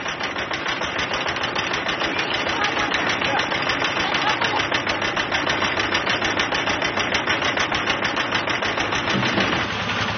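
A family's farm tractor in a remote Mosuo village runs at a steady, loud, rapid chugging beat, close by and continuous with no break.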